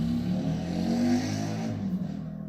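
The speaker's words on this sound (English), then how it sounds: "his goddamn motorcycle bike riding outside from my house" A motorcycle with a loud exhaust rumbles and revs outside a house, a steady throaty drone that swells slightly and then fades toward the end.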